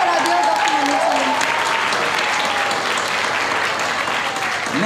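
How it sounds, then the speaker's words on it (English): Loud, dense applause from a large crowd at a Jesus Youth national conference, greeting a speaker; continuous clapping fills the whole stretch, with a voice or tonal sounds faintly audible beneath it. "let's all give a round of applause for our dear Dr. Manoj Sunny"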